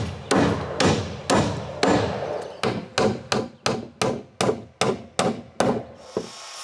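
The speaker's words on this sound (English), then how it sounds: "I bring back the 6 missing planks and I nailed the first 5." Nails are hammered into wooden dock planks at a cottage, a run of about thirteen sharp, ringing wooden blows in a steady rhythm that comes quicker toward the end, loud and close, with no talking.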